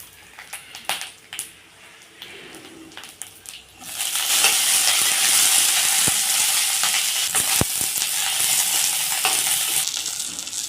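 After a few clinks and stirs, peanuts and green chillies hit hot oil for a tomato chutney, with a loud steady sizzle erupting and continuing under occasional stirring taps.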